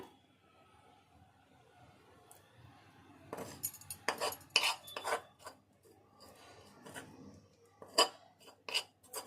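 Sorrel leaves, stalks and chillies ground by hand on a stone mortar for chutney, giving scattered rasping, scraping strokes in uneven bursts, louder in the middle and end, with no talking.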